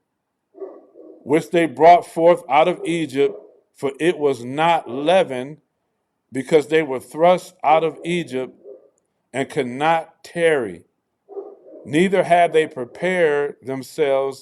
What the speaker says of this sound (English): Somebody must have rung my doorbell because my dog is going crazy.